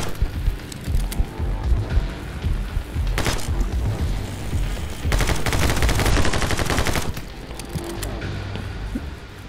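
Rapid bursts of gunfire from the action game My Friend Pedro, loud, dense volleys with booming impacts and a heavy sustained barrage midway, over a steady game soundtrack.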